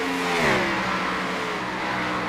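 Race car number 77 roars past at Watkins Glen, its engine note loud and close before dropping in pitch as it passes and fades down the straightaway, with no voices.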